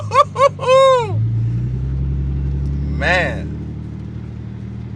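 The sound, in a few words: supercharged Nissan 370Z engine revving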